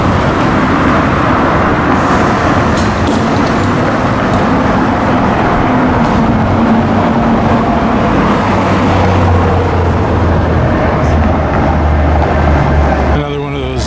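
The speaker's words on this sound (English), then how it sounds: "Another one of those free mall ride buses" A free mall ride bus rumbles past on Denver's 16th Street, its low engine drone swelling near the end over steady street noise while people talk throughout.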